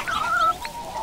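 Chickens cluck in the Dinkum farming survival game, a short run of close, clear clucks and squawks with no talking over them.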